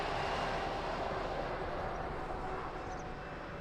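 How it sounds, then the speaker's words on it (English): An airliner takes off from runway 20 at Lisbon Airport, a steady broadband jet roar that holds loud and even throughout, easing only slightly toward the end, with no voices. "runway 20, cleared for takeoff"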